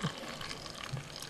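Hot water poured over a crystal growing kit setup covered with a bowl gives a soft, steady trickle and splash, quiet and close, with no talking.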